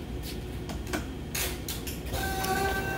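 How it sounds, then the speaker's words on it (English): The automatic oiler pump on an Okuma machine runs with a steady mechanical whirr, close and continuous, with rhythmic clicking and faint tonal whine layered through, and no voices. "So the pump has come on."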